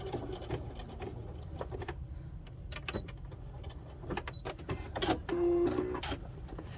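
Sewing machine stitching contrasting fabrics for an 8-point holiday star, running in short bursts of mechanical whirring with pauses and fabric handling between, ending in a steadier, louder run.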